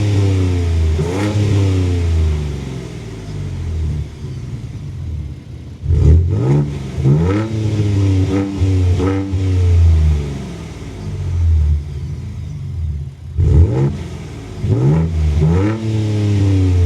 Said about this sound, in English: So I'm going to do a rev in each of those modes so you can see what the difference is, starting in quiet mode.